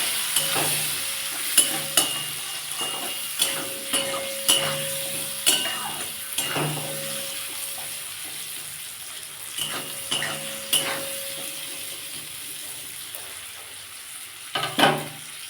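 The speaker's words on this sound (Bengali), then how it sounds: "আমি আমড়াটা একটু ভেজে নেবো" Hog plums (amra) frying in a pan with turmeric and salt for pickle, a steady close sizzle broken by repeated stirring scrapes and clinks of a utensil against the pan, with no talking.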